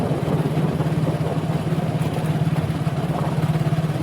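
A tractor engine runs steadily nearby with a continuous low, throbbing rumble and no talk over it.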